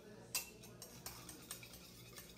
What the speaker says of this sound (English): I think we need to whisk it more